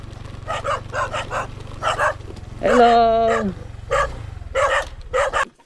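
Several dogs bark and yip in repeated bursts, with a yelping whine in the middle, as visitors arrive at a rural home; the barking is close and loud over a steady low hum, and a person briefly speaks.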